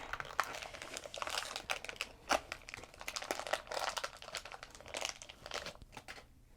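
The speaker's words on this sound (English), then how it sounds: "here's a little tab to rip it open" Plastic packaging on a giant Kinder Surprise egg toy crinkles and tears as its tab is ripped open. Close, soft crackling goes on for several seconds with no talking.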